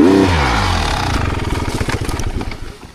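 A small motorbike engine runs close by, with a rising rev at the start that settles into a steady, clattering idle, with no voices over it.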